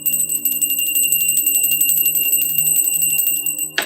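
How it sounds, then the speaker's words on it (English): A bright, high-pitched bell rings steadily with sustained, shimmering overtones, fairly loud and close, ending with a sharp sound at the finish. "I'm ringing my bell."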